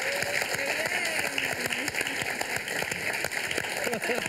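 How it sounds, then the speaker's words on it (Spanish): An audience applauds a comedian on a television show, a steady patter of clapping with voices and talk over it. "un aplauso para él, por favor"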